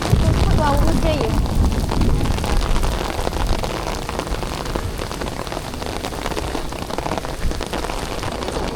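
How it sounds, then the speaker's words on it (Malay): Steady rain pours down outdoors during an Umrah pilgrimage trip, a dense, continuous hiss of drops on surfaces that stays loud throughout, with people talking over it. "Wow, hujan ya."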